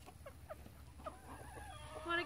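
Rooster wearing a leash out for a walk, giving a series of short soft clucks in an uneven rhythm, faint and close, with a high whistling tone near the end.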